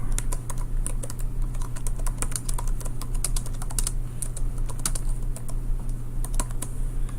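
Typing on a computer keyboard while entering a single-family property listing, rapid irregular key clicks and taps close by, continuous throughout with no talk.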